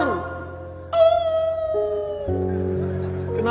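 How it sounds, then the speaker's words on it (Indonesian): A dog howls during the Islamic call to prayer, long sustained tonal wails rising and shifting pitch in steady drawn-out notes, fairly close and loud, with no speech over it. "Kenapa kalau azan berkumandang suara anjing melolong?"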